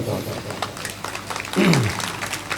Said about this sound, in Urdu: آپ کے لیے بھی بہت سی تالیاں، بہت سی داد۔